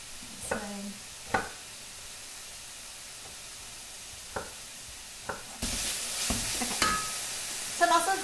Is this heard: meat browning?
yes